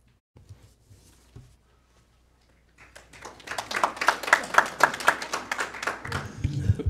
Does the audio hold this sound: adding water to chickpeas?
no